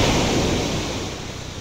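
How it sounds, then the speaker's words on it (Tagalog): Ocean surf rolls in on a seashore, a continuous loud wash of breaking waves with wind noise and no voices. "Dito ako ngayon sa tabing dagat"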